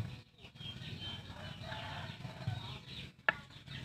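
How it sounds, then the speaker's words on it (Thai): Fingernails scraping across a bar of soap, a soft, close, rasping scratch repeated steadily for a few seconds, quiet and dry, ending with a brief sharp click. "เอา เล็บขูดขูดนี้นะคะ ขูดสบู่"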